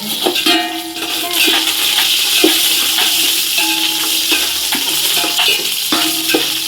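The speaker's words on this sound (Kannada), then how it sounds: "ಹಸಿಮೆಣಸಿನ್ಕಾಯಿ ಚೆನ್ನಾಗಿ ಸ್ವಲ್ಪ ಎಣ್ಣೆ ಒಳಗೆ ರೋಸ್ಟ್ ಆಗಲಿ" Green chillies and onion fry in hot oil with curry leaves and mustard seeds, a steady close sizzle with a spoon scraping and stirring the pan now and then, no talk heard.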